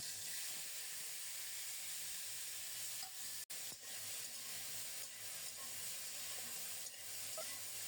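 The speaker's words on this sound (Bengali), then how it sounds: "তেল গরম হলে রাঁধুনি ফোড়নে দিলাম ফোড়নটা রেডি হয়ে গেছে এখন দেব বরবটি" Long beans tipped into hot mustard oil tempered with radhuni seeds, giving a steady, close, even sizzle and hiss of frying, with a single sharp click partway through and no talking.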